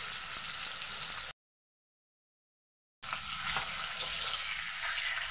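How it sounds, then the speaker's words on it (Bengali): Pieces of bhola fish frying in hot oil for Bengali fish cutlets give a loud, steady sizzle close by, cut off by a short stretch of silence before the crackling resumes. "আমি মাছগুলো ভেজে নেব।"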